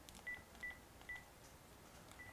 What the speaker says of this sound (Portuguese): Discando e está tocando.